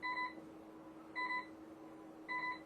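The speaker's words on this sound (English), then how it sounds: "Alarms will start going off on the bridge." Ship bridge alarm beeping during a simulated full blackout, three evenly spaced electronic tone bursts about a second apart, fairly faint against a low steady hum.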